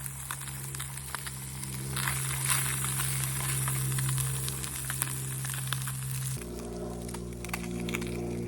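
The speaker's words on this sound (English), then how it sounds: "That crappie cooking in there with those ramps" Crappie fillets frying with wild ramps in a pan, a steady close sizzle with faint crackles and a low hum beneath, the frying tone dropping slightly partway through, with no talking.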